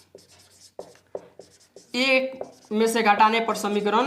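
Pen scratching out a maths equation on paper during an elimination-method exercise, several short strokes at close range, followed by someone speaking over continued writing.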